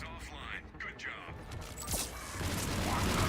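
Gunfire in the sci-fi shooter Mass Effect crackles as scattered bursts and mechanical clatter, moderately faint, building to a denser, louder rattle toward the end.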